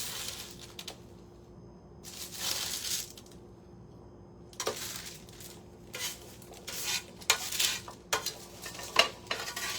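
Chickpeas tipped into a pan and stirred with a utensil, soft scraping and rattling strokes with clinks against the metal over a faint sizzle, close and fairly quiet, no talk.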